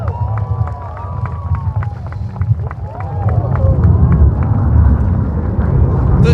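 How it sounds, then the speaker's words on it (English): Spectators at the Red Arrows display at the Scottish Airshow in Prestwick/Ayr, 2015, cheering outdoors. The crowd noise swells from a murmur into a loud, sustained roar, with a voice talking over the start. "Big cheer, guys, come on!"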